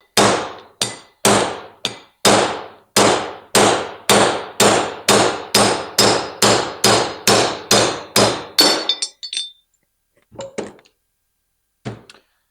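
Steady, rapid hammer blows knock the tail shaft bushing out of a TH350 transmission housing, about eighteen sharp metallic strikes in even rhythm, close and loud, followed by a few lighter taps and clinks.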